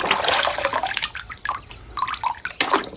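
A toy car being washed in water, with close, continuous splashing and sloshing in uneven surges and brief pauses, and no talking.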